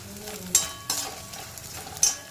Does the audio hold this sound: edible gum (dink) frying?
yes